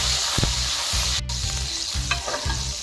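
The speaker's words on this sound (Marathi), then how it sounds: "राई आणि जिरं थोडंसं तडतडलं" Loud, steady sizzling of mustard seeds, cumin, garlic and curry leaves frying in hot oil for a tempering, with crackling pops and a few soft clinks of a spoon stirring.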